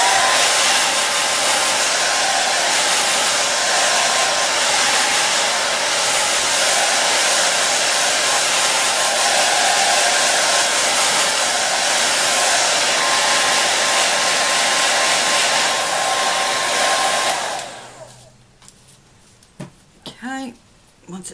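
A heat gun blows hot air onto paint on a birdhouse, a loud steady whooshing roar that runs for about seventeen seconds, then cuts off, leaving quiet with a few faint knocks.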